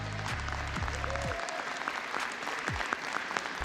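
Applause fills the chamber of Congress after Kevin McCarthy is nominated for Speaker of the 118th Congress: dense, steady clapping from a large crowd, with a low hum underneath at the start.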